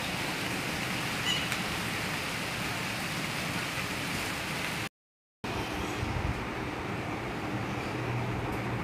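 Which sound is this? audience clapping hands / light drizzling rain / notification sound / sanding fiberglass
light drizzling rain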